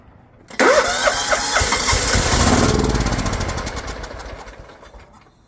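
A long-idle John Deere GT262 garden tractor engine cranks and catches, firing up loudly and running steadily near the listener, then gradually settling and fading slightly.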